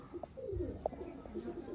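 Soft, low coos from a pair of pigeons roll on steadily nearby in repeated throaty bursts, with faint background murmur.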